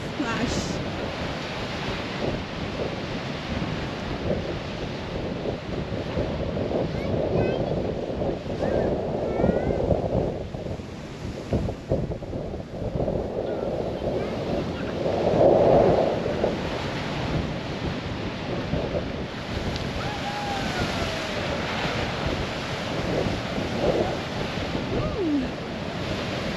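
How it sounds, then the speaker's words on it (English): Big ocean waves crash and splash against rocks on the Aruba coast, a continuous rough roar with surging bursts and wind buffeting the microphone, while people talk over the surf. "Look at that big splash."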